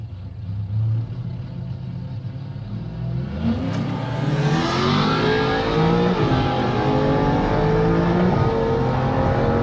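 A BMW 335i N54 engine revs hard and loud, the pitch climbing and repeatedly bouncing off the rev limiter as it holds there.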